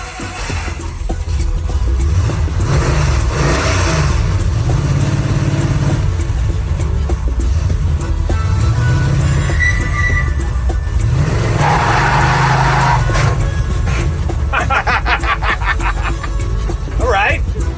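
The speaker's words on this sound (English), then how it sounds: "You just did a burnout, too." Car doing a burnout on a junkyard muscle car build, engine revving loud and sustained with rising and falling surges of throttle, tire noise mixed in, people talking over it.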